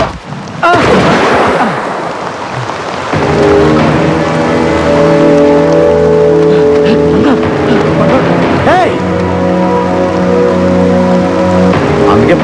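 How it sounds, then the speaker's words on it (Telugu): Heavy rain pours down in a film scene, a dense, steady hiss that carries on throughout beneath sustained tonal music. "వర్షం బాగా కురుస్తుంది."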